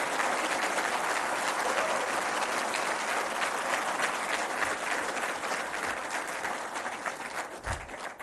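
Sustained applause from an audience at a Pakistani official event, a dense steady clatter of many hands clapping that tapers slightly toward the end.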